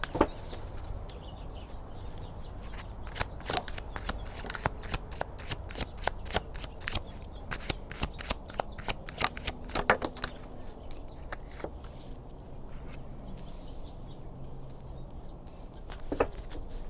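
Tarot cards being shuffled by hand in a long run of crisp, close riffling flicks and slaps, some bursts quicker than others, over a faint steady room hiss with no voices.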